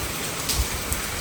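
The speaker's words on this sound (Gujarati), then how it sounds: "હાલો હવે ધીરો પડી ગયો છે વરસાદ" Nighttime rain falls after a two-hour downpour that is now easing off, a steady close hiss with a couple of soft drop thuds and no voices.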